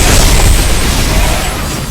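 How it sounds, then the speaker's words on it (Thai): Loud, dense explosions and blasts from a Roblox Hunty Zombies battle fill the clip continuously, a sustained roar of booms with no clear gaps. "ตัวระเบิดมันแรงปกตินะปกติมันไม่แรงขนาดนี้นะ"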